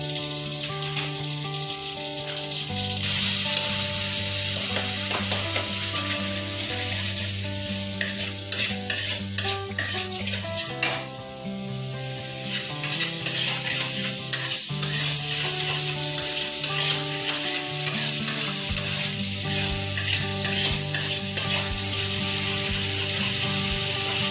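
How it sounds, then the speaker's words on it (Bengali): Ghugni spice masala sizzles as it is stir-fried in oil, with a constant frying hiss and repeated spoon scrapes against the pan, close and continuous with faint background music. "আপনারা ভালো করে মশলাটাকে কষিয়ে নেবেন।"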